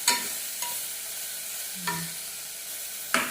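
A spatula scrapes around a frying pan in a few separate sharp strokes over a soft, low frying hiss, close and fairly quiet.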